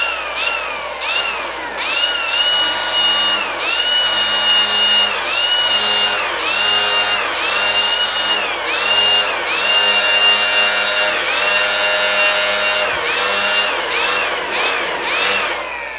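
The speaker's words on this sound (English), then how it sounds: "So I decided to go with my battery operated grinder and a flap disc." Battery-operated grinder with a flap disc working a car fender on a 1968 Caprice, a loud continuous whine that dips and rises in pitch as pressure on the metal changes, steady throughout.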